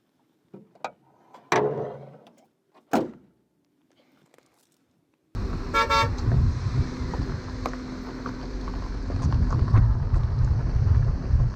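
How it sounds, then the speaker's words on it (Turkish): Interior road noise from a Tofaş Şahin with 1343 km on it, a broad steady rumble and hiss that starts abruptly after a few faint thumps and grows slightly louder as the car drives on. "Şimdi isterseniz artık yavaş yavaş aracın sürüşüne geçelim."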